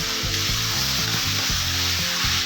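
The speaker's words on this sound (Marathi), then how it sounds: "आता आपण हा तेलामध्ये हलवून घेऊया जेणेकरून सर्व एकत्र एकजीव होईल" Cabbage and dal are stirred in hot oil, giving a loud, continuous sizzle and rubbing scrape over a steady low, droning hum.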